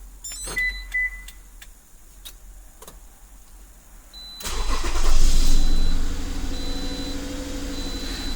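A 2006-2010 Toyota RAV4 being remote started: a few faint clicks and chirps from the door locks actuating, then the engine cranks and catches into a steady idle, close by.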